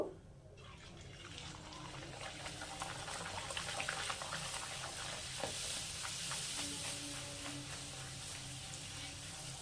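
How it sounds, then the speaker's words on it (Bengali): Spinach kachoris deep-fry in a pan of oil, producing a continuous bubbling sizzle at a moderate, close level that builds after a quiet start and holds steady. "আমি যে কটা বেলেছি সে কটাই তোমাদের সাথে ভেজে শেয়ার করব।"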